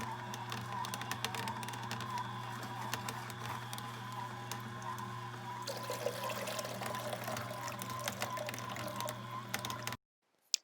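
Fresh green juice, emerald in colour, pours steadily from a Smeg juicer into a collecting jug, a continuous close liquid stream with small drips over a constant machine hum, ending abruptly.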